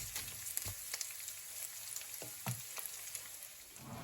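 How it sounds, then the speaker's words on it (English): Beef sizzles and fries in a pan, a faint steady hiss with a few soft stirring knocks and taps scattered through. "while my beef is cooking away nicely"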